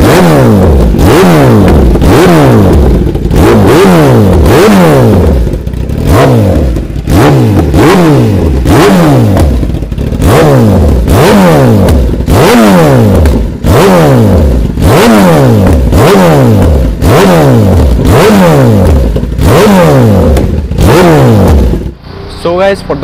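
A Kawasaki ZX10R sport motorcycle revved repeatedly on the road, very loud, close throttle blips rising and falling in a steady rhythm for over twenty seconds, with voices faintly underneath.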